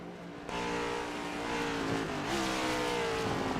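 Race car number 32 in a Next Gen stock car sim race at COTA, a loud engine roar arriving abruptly and sweeping past close by, the pitch shifting as it goes.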